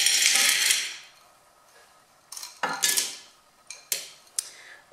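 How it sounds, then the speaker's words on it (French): Dry pasta is tipped into the metal bowl of a Cookeo multicooker, starting with a loud rushing pour, followed by a few sharp clattering bursts as the remaining pieces drop in, with no talk. "je vais d'abord mettre mes pâtes"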